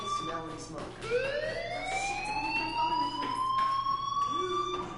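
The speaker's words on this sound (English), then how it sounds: "do you hear that fire alarm?" A fire alarm rings in the video game Life is Strange, a loud rising electronic wail that repeats and holds steady, with people talking over it.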